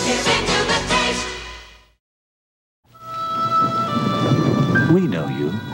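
Thunder rumbles with rain in a 1980s TV commercial, a loud roll that dies to silence before music and a voice take over.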